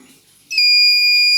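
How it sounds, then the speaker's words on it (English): Vehicle anti-theft buzzer sounding after a wrong OTP is entered, a loud, piercing steady electronic tone that starts abruptly after a quiet moment and holds to the end. "it will generate a buzzer"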